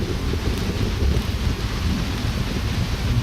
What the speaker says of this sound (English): Okay, so it's pouring rain now.